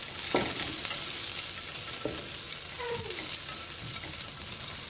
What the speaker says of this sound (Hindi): बस 2 मिनट के लिए या 1 मिनट के लिए मैं इसको फ्राई कर लूँगी। मिक्स कर लेंगे हम बंद गोभी को भी।